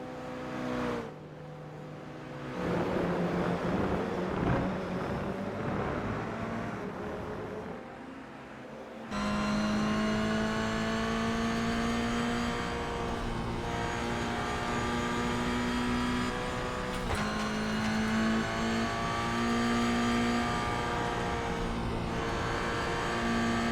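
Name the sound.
Toyota GR86 race car engine in video game iRacing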